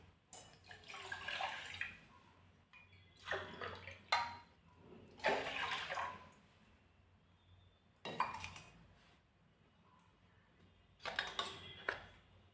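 Several bursts of splashing water poured into a metal pot from a tumbler, with clinks of metal, separated by quiet pauses; close and moderately loud.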